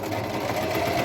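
Sewing machine running steadily through a straight stitch on a halter-neck top, a continuous close, loud motor whir with no pauses.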